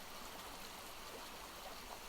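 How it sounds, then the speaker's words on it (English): Cool, clear water trickles from a pool into a jug in a soft, continuous, faint babble like a gentle stream, steady throughout with no voices. "You fill the jug with the cool, clear water from the pool"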